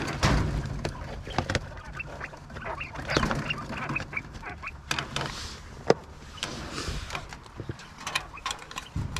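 Ducks or similar farm birds flapping and calling as they are shooed off, with scattered sharp clatters and wingbeats at close range; a voice speaks briefly between the bird sounds.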